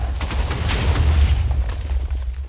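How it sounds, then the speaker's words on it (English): TNT blast in Minecraft, a loud rumbling boom with heavy low-end roar and crackling debris spread over a couple of seconds, no talk over it. "Alright, that was a nice little explosion."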